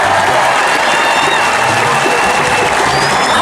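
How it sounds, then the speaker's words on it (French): Loud, dense crowd applause mixed with cheering and whistles at an RDPC political mega-rally in Bengbis, southern Cameroon, sustained and continuous throughout without any break. "Si vous faites la confirmation de mon inspiration, donnez-moi quand même les acclamations."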